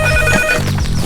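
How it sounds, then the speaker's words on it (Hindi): A telephone rings in a cluttered room as someone hunts for a phone buried under piles of money, its repeating electronic tone sounding loud and close above busy background music and noise. "दोस्तों, आपको क्या लगता है किसका कॉल है?"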